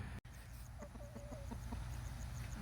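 Backyard garden chickens cluck softly in short, scattered bursts over a steady low outdoor hum, fairly faint and unhurried.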